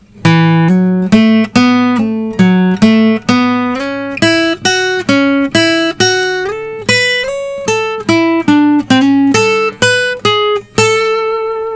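A run of clean, evenly plucked single notes on guitar climbs and falls in a steady rhythm, ending on a sustained note, with no talking.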